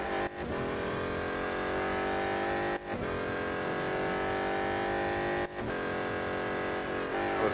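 BMW M Hybrid V8 race car engine in the Real Racing 3 mobile racing game, a loud steady high-pitched roar holding through the clip, dipping briefly at three gear shifts roughly every three seconds, with no talk.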